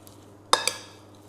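Walnuts or mixed nuts being stirred together with orange zest and cinnamon for a pumpkin lavash roll dessert: two quick, close scraping clinks in a bowl, then a short fade into quiet.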